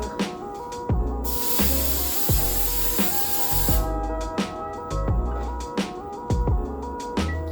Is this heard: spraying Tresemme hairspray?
yes